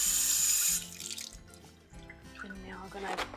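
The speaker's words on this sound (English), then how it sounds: "let's go ahead and wash some of these peaches. And you really don't need any soap. All you need is water." A kitchen tap runs while peaches are rinsed by hand under the stream, with a loud steady rush at first, then splashing and dripping as the fruit is rubbed, and music playing underneath.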